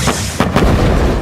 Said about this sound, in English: What about a tsunami being sharpened and thrown like a spear?